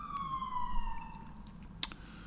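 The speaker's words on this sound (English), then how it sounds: "listen to all those ambulances and police cars and fire trucks, which use the street outside my window as a major ferry" Emergency vehicle sirens wail along the street outside an apartment window, one siren's tone sweeping downward as it passes, over steady low traffic rumble and a brief sharp knock near the end.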